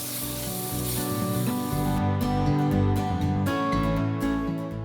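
Garlic and ginger paste with garam masala and salt sizzles steadily in hot oil, a dense close frying hiss with occasional stirring scrapes and no talking.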